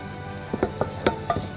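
Choux pastry dough is stirred in a hot pan to dry it out, giving a light sizzle under four or five quick scraping, slapping strokes of the spoon against the pan, close up and without talking.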